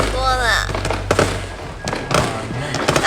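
New Year fireworks in Johor, Malaysia pop and thud in scattered bursts, with a whistling rise at the start and people talking over the noise.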